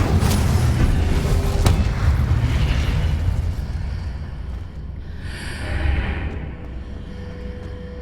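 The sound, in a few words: Confringo explosive spell blast in Hogwarts Legacy video game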